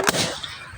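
A balloon bursts with a single sharp, loud pop close by, followed by a brief fading decay.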